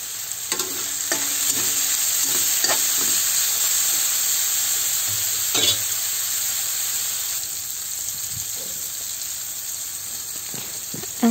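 Egg and tomato sizzle steadily in a hot pan, a continuous frying hiss with occasional stirring scrapes and clicks, close and moderately loud with no talking.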